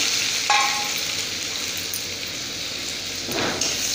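Chopped onion fries in hot oil with cumin seeds and a bay leaf, giving a steady close sizzling hiss with a brief clatter near the start and a soft scrape near the end, no voices.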